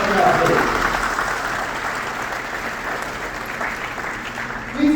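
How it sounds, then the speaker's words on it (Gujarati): An audience at a student award ceremony applauds the volunteers with sustained, dense clapping that stays steady from start to finish. "એક જોરદાર તાળીઓથી બધા વોલન્ટિયર્સની રક્ષા કરો"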